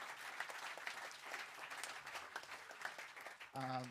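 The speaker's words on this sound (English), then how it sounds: "So a round of applause for everyone who's helped with this gig" Applause from the audience at a live jazz gig by a jazz quintet, a fairly faint, scattered clapping with voices mixed in, ending with a brief held tonal sound.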